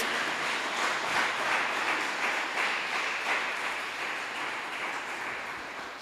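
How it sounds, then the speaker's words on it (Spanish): A church congregation applauds, a soft continuous wash of clapping heard from across the room, steady and fairly faint throughout. "Dele un aplauso al Señor."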